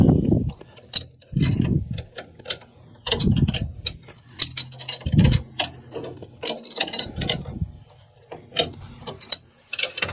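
Wrench snugging up the mounting bolts on a water circulation pump, giving a series of short metallic ratcheting clicks and clanks in separate bursts, close and fairly loud, with no talking.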